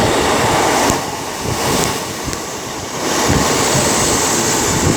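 Train 156405, a Crewe to Newcastle service, rolls into Derby station with a loud, continuous rumbling roar and wheel noise that swells and dips slightly, close by and with no talking.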